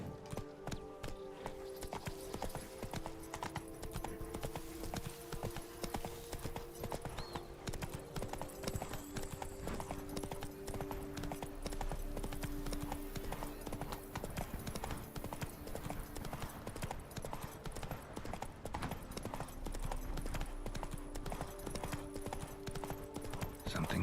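Horse hooves clip-clopping steadily in The Witcher 3: Wild Hunt, a continuous rhythmic gallop over game music and ambience throughout.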